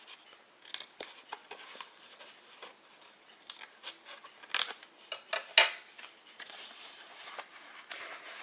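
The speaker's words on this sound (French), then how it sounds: "Je vais couper, je vous montre." Scissors snipping notches into a paper tab on a scrapbook Advent calendar, a series of light, quick crisp cuts and rustles, close and fairly quiet, with no voice over them.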